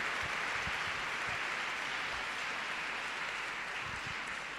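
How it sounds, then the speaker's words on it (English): An audience at a festival talk applauding a guest speaker, a dense, steady wash of clapping with no voices. "I think she deserves a really big round of applause."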